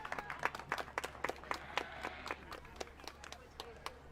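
Spectators at a county livestock show clap for youth exhibitors after a market lamb class, a thin scattering of individual claps in a quick irregular rhythm, fairly quiet in an open arena with a low hum beneath.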